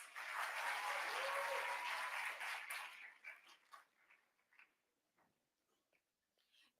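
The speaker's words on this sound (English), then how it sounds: "A big cheer for her, please." An audience applauds a ninth-grade student poet at a school poetry recital event, the clapping loud and dense for nearly three seconds, then thinning into scattered claps and fading to near silence.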